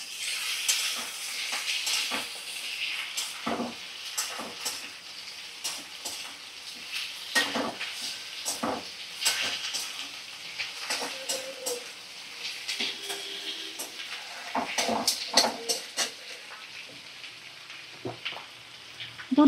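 Tomato and ginger-garlic paste frying in a pan, with a steady soft sizzle under repeated scraping and clinking stirs of a utensil against the pan, close and moderately loud throughout.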